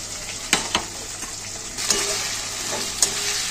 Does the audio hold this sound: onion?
yes